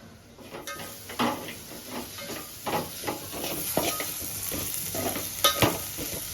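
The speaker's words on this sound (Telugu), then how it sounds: "ఇప్పుడు కొంచెం అల్లం వెల్లుల్లి పేస్ట్ వేసుకొని కొంచెం ఫ్రై చేసుకోవాలి." Ginger garlic paste frying in a pan gives a constant sizzling hiss, broken by repeated stirring scrapes and clinks of a utensil against the pan, close up with no speech.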